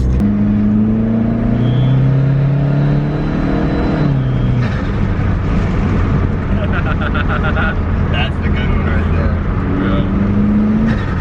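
Car engine intake roar picked up by a microphone mounted near the intake, a loud steady drone with rising and falling revs throughout, while people talk over it.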